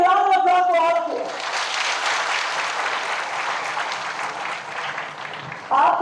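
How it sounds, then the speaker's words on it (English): Dense, sustained applause fills a hall at the opening of an international conference on happiness. A speaker's voice is heard briefly at the start and again at the very end. "A big round of applause for all of you."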